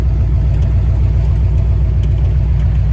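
A 1932 Chevy hot rod, built in the 1960s, runs with a steady, loud low rumble from close range, holding an even idle-like drone throughout with no voices.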